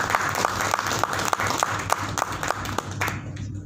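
An audience applauds at a leadership training event during an award presentation to a trainer, steady dense clapping that holds for several seconds before thinning out and dropping away at the end.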